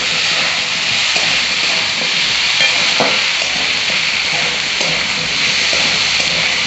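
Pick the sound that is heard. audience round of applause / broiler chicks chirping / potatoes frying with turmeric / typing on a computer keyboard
potatoes frying with turmeric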